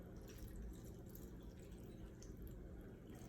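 Salad dressing trickles and splashes softly over an Italian Christmas salad in a bowl, a faint, steady liquid pour with no talking.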